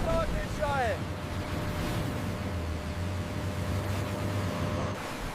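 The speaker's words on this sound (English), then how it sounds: "The BLUE ocean water flows into the trench." Ocean water rushes into a trench through a broken sand wall in a cartoon, a steady, full roar of surging water with a low rumble and a short whistling tone near the start.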